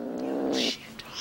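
A cat lets out a short, drawn-out growling meow, close and fairly loud, then falls quiet.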